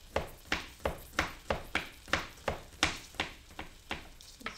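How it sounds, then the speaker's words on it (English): A knife chopping garlic on a board, a rapid, even run of about a dozen crisp taps close up, with no voices. "Let's chop it up nice and fine."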